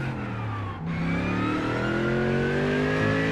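A GT3 race car in the iRacing sim lifts briefly under braking, then its engine climbs in pitch as it accelerates hard. The engine note is loud and steady throughout.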